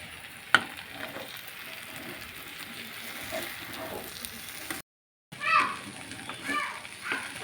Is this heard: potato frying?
yes